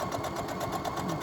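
A sewing machine stitches along a seam of slippery fabric, a steady rapid mechanical chatter with a regular pulsing rhythm, close and continuous throughout.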